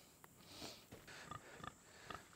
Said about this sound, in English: So here's our 2 feeder pigs.